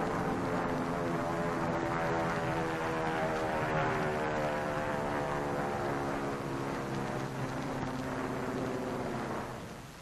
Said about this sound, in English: One of the drone airplanes flying over the target fleet after the blast.